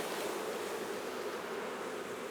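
Bees crowd a queen-rearing frame as it is lifted and handled, their steady buzzing hum filling the air continuously and close by, with no voices.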